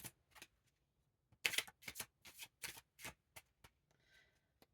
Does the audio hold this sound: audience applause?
no